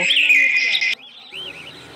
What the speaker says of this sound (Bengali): তো দেখতে পাচ্ছ এখানে প্রচুর কালেকশন রয়েছে জাভা আর ফিঞ্চ পাখির